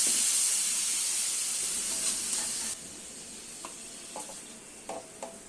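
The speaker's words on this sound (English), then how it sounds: "Mix it well." Pineapple syrup stirred into fruit pulao in a pan, opening with a loud steamy hiss that drops off abruptly midway, followed by quieter sizzling and a few soft spoon clinks against the pan.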